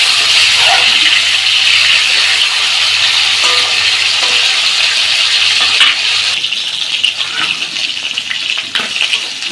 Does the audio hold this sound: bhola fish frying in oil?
yes